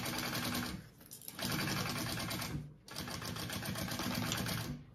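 A sewing machine basting a pocket onto the top of a crossbody bag runs in steady stitching bursts, pausing briefly twice, close and continuous with no talk.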